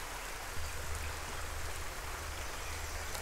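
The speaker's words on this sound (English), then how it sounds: "the rain is really coming down" Heavy rain falls steadily on a Wisconsin trout stream, a dense, even hiss of drops over the running water, continuous and fairly close with no voices.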